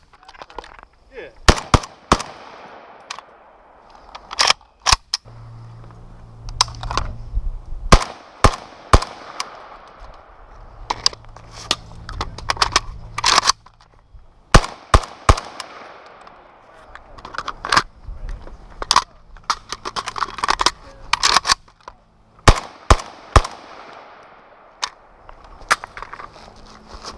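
Sharp, close rifle shots crack out from a Ruger 10/22 fitted with a conversion kit, coming singly and in quick clusters of two or three across the stretch, with quieter handling noise between them.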